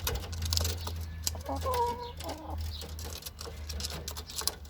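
Hens cluck and squabble while one carries a piece of its own eggshell in its beak, a close, busy flock sound of short clucks and calls with scuffling in between.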